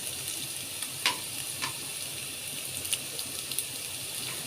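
Chopped onions and potatoes fry in a pan with a soft, steady sizzle, broken by a few faint scraping stirs from a utensil, heard up close and without talk.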